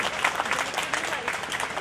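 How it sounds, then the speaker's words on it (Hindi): An audience at a birth anniversary commemoration event gives steady, lively applause, a dense patter of clapping hands that fills the room, with a voice speaking over it. "तो जोरदार तालियां"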